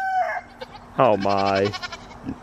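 A rooster crows loudly and close by on a noisy farm at night, one long rising-and-falling call, with goats and pigs nearby; a person speaks briefly just before it.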